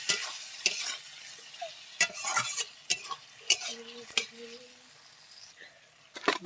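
Chopped tomatoes and buffalo meat frying in a pan while a utensil stirs, giving sharp scraping knocks at irregular intervals over a soft sizzle.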